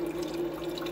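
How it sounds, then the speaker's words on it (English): Water runs steadily into a Magic Chef 27 lb portable countertop ice maker as it refills, a constant close trickle with a faint hum beneath. "And now it's refilling with water to make a second batch."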